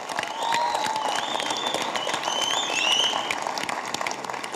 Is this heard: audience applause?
yes